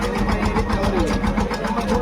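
A GPS-equipped tractor engine runs at a farm fair, a steady, close, rapid chugging pulse that stays even throughout.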